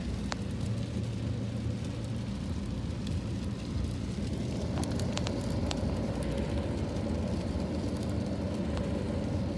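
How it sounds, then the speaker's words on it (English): Heavy rain pours outside a window, a dense, continuous roar of steady hiss and low rumble heard from indoors, unbroken and fairly loud throughout with no voices. "This is heavy rain."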